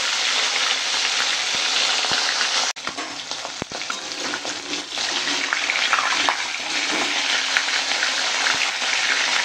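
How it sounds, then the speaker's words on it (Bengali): Turmeric- and salt-rubbed bhola fish frying in hot oil, giving a loud, dense, continuous sizzle that holds steady throughout, broken only by a brief dip and a few faint clicks near the start. "মাছগুলো সুন্দর করে ভেজে নিয়েছি"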